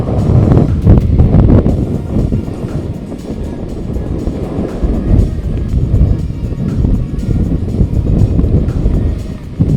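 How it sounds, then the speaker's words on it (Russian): Strong gusting wind buffets the microphone on a cliff face at a climbing sector in Balaklava, a loud continuous roaring rumble with heavier blasts near the start, steady throughout with no speech. "начинает дуть очень сильный ветер с левой части, и микрофон практически полностью заглушало"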